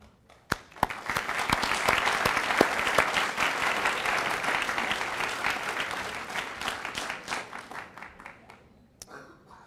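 An audience at a rabbi's talk breaks into applause. A few sharp claps swell quickly into a full, sustained round of clapping, which thins out near the end into scattered individual claps.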